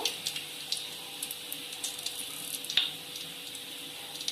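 Bay leaf, cinnamon, cloves and star anise sizzle in hot oil for chicken biryani, a faint, steady crackle with small scattered pops and no voices.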